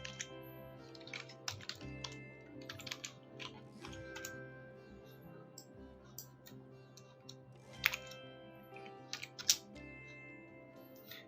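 Keys clatter on a computer keyboard in irregular bursts of typing while entering an accounting question into Tally ERP 9, close and fairly quiet with short pauses between runs of keystrokes.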